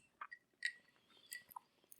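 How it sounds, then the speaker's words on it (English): Someone crunches on coarse salt from the rim of a margarita glass, close to the microphone, giving a few faint, sparse crisp bites and chews in a quiet room. "Sorry, you hear me crunching on my salt."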